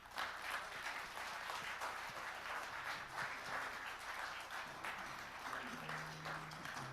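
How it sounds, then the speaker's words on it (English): An audience at a conference in Seoul applauds after a speech, a dense, steady wash of clapping that holds for several seconds. "Another round of applause for Scott Thiel."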